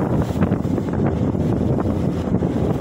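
Strong wind buffets the microphone in loud, continuous rumbling gusts, with faint water sloshing underneath, on a boat drifting at sea with rough waves while micro jigging.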